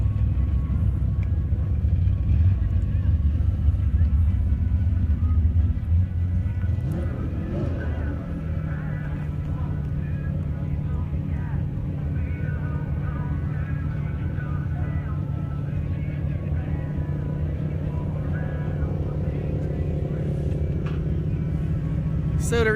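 Drag racing car in a sportsman bracket race at Avenal Sandbags in California, a sustained loud engine rumble that deepens and shifts pitch partway through, with faint talk underneath.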